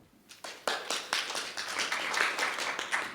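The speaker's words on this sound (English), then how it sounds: "A little round of applause for all of us." Small round of applause from a modest group of conference participants at a community Landcare masterclass, scattered individual claps building quickly into a brief, fairly close patter.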